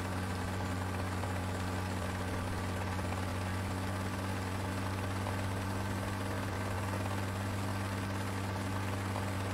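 Helicopter engine and rotor in Rising Storm 2, a steady low drone with a strong hum held evenly throughout while the aircraft flies, with no talk.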